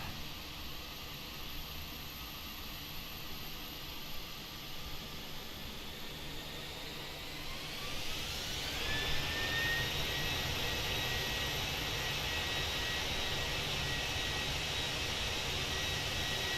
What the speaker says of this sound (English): Nonetheless, thrust reverse.